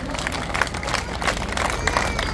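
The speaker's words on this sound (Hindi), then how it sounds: "एक बार जोरदार तालियां बजाकर इनका सम्मान करें" A crowd applauds at an honour ceremony in Chhajiyawas village, Mahendragarh, with dense, steady clapping that continues loudly through the whole stretch.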